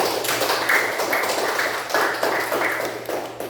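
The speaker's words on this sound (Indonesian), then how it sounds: "tepuk tangan. Satu." Classroom clapping during a school lesson on metamorphosis, a brisk burst of hands clapping together close by and fairly loud, steady over a few seconds with a low hum beneath.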